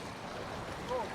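Floodwater rushes and foams in a steady, broad, close-up roar, with a brief faint voice surfacing near the end.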